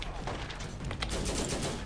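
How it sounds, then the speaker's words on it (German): Rapid bursts of gunfire ring out in the video game Borderlands, a dense, continuous volley of shots that stays loud throughout with no pauses. "So, direkt hier wieder schöne Ballerei."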